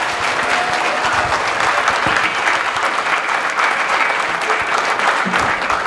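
A room of students claps in sustained applause at a startup talk, a dense loud patter of many hands that holds steady throughout.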